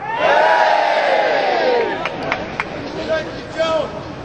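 Crowd at a London climate rally about aviation cheering, a loud burst of massed voices and shouts that swells and then tails off into scattered calls.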